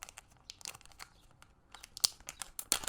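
Packaging for an artisan keycap being torn and crinkled open by hand, with short bursts of tearing and rustling plastic separated by quieter pauses, close and fairly soft.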